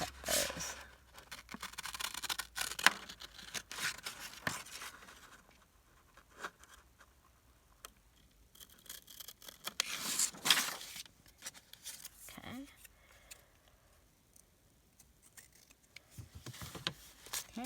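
Scissors snip paper stamp-sized pieces for a privacy envelope journal, giving intermittent close, crisp cuts and rustles in short bursts with quiet pauses between.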